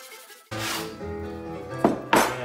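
80 grit sandpaper rubs against a classical guitar during a refret, giving a close, short rasping stroke followed by two quick scuffing strokes.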